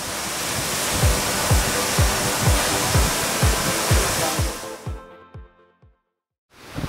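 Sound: Kalchhe waterfall

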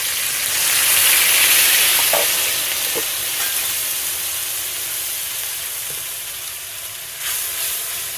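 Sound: cumin, ginger and chili paste frying in a pan

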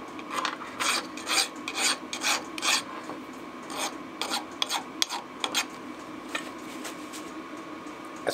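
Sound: filing to deburr stock after a milling cut

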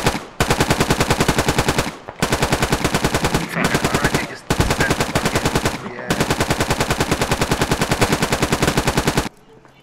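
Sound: gunfire in video game Squad

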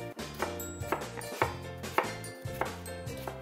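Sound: knife chopping apple into small cubes

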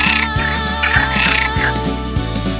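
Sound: frog croaking

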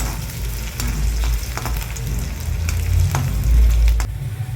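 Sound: onions frying in oil

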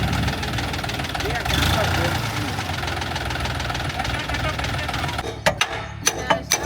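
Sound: tractor engine running

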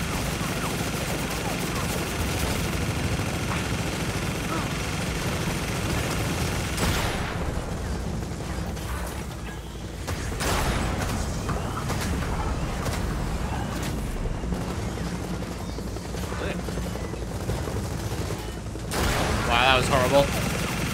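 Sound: gunfire in the video game Gears of War 4

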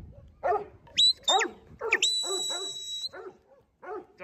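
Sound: dog barking

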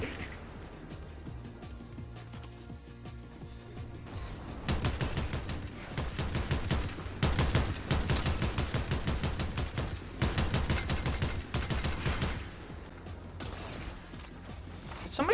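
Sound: gunfire in Fortnite, a video game

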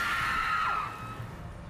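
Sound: ghosts screaming in the video game Enshrouded

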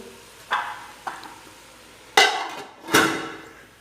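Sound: lid placed on a cooking pot

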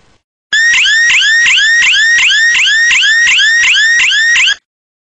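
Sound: outdoor burglar alarm sounding

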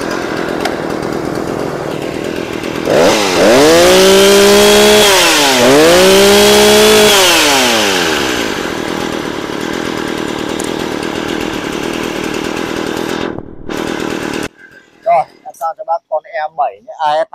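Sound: Shindaiwa chainsaw engine running

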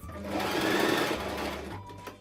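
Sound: sewing machine stitching velvet fabric

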